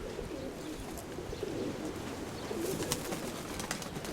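Soft, low coos of grey-speckled domestic pigeons repeat in the background, joined by a few faint chirps and rustling clicks.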